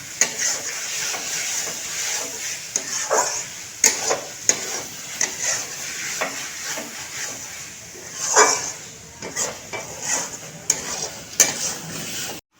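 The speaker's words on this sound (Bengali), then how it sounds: "এটা দিয়ে আবার মশলাটার সাথে আর চিকেনটার সাথে কষাচ্ছি।" Mashed boiled potato is stirred with spices and chicken in a pan for mangsho ghugni, with a soft sizzle under repeated spoon scrapes and occasional sharp metal clinks, close and moderately loud.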